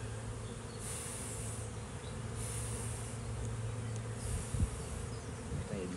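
Honeybees swarming around an opened backyard hive, giving a dense continuous buzz close by with individual bees droning past now and then, steady and fairly loud with no talking.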